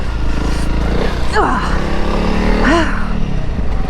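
A motorcycle engine throttles along a rocky mountain trail in the Pyrenees, a steady close drone with two rising revs that climb and fall back, a voice talking briefly over it.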